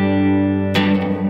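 Electric guitar through a Fender Tre-Verb pedal set to its '63 spring reverb mode: a held chord rings evenly, then a fresh strum hits and blooms into a washy spring-reverb tail, played alone.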